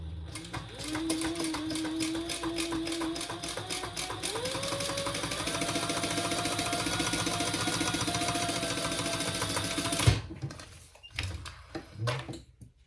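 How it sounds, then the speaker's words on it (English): A sewing machine runs in one steady, continuous stitching burst for about ten seconds while basting along the top edge of a Kiki crossbody bag, then stops, followed by a few soft handling sounds. "now I'm going to baste 1/8 of an inch from the top there just to close off the top"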